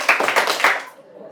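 A group of children in a classroom claps in a counting clapping game: a short burst of quick, overlapping claps that fades out within a second.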